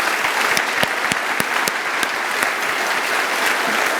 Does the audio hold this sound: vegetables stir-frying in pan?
no